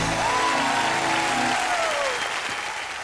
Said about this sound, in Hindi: जोरदार तालियां लेडीज एंड जेंटलमैन